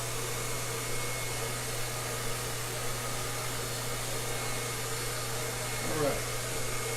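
A hair dryer blows steadily on a weave set on a mannequin. Its loud, constant roar fills the whole stretch without a break.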